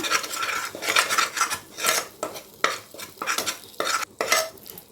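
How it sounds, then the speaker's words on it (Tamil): A spoon scrapes and stirs spices such as coriander, turmeric and chili powder into potato gravy in a metal pan, with irregular rasping strokes and clinks over a faint sizzle, close by. "மல்லித்தூள் எல்லாம் சேர்த்து கலந்துக்கோங்க."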